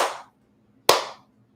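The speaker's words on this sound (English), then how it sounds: "Slow clap." Two sharp, separate hand claps about a second apart, close and fairly loud, with near silence between them.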